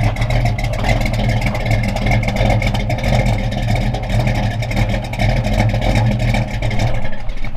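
An old cammed Mopar V8 idles loud and close, a rough, lopey rumble with an uneven, choppy beat that holds steady throughout with no voices over it.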